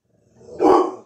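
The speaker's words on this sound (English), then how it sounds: "I can make him bark." A pet dog, prompted by its owner, lets out one short, close bark that swells and fades within about a second, heard alone without talk.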